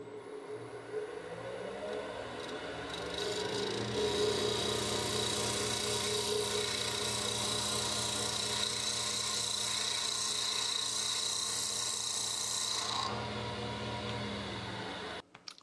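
A woodturning gouge cuts into rough end grain on a spinning lathe, giving a steady, loud, hissing whir that holds for about ten seconds before easing off.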